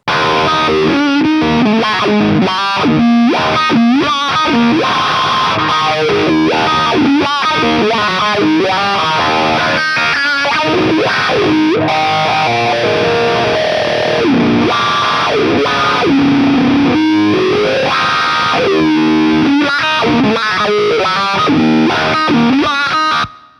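A distorted electric guitar through a Marshall amp with a 535Q wah pedal, played loud and continuously for over twenty seconds, its tone sweeping with the vocal-like wah filter and heavy effects, and no talk.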